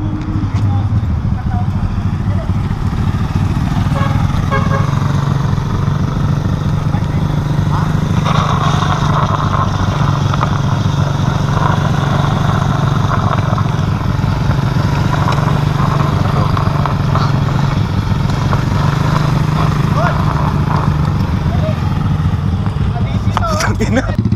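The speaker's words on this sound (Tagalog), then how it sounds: "Ang tulin ng motor mo eh." A Honda CBR150R motorcycle engine drones steadily and loudly throughout, with wind and road noise mixed in and occasional voices under the engine.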